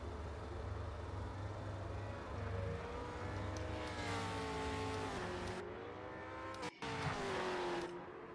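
A V8 Supercar racing at Bathurst in a video game, its engine roaring loud and close with rising and falling revs through gear changes, one brief cut to silence, then more engine noise.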